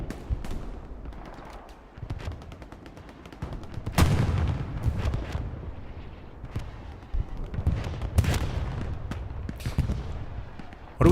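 Artillery strike on the front line in the video game Hell Let Loose, heavy booming impacts and blasts hitting repeatedly amid scattered gunfire, loud and close at times.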